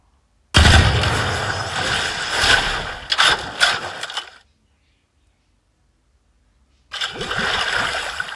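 Weapon reload in Valorant Mobile: a loud burst of mechanical clacks and metallic rattles that ends in a sharp click, then silence, then another burst of handling noise.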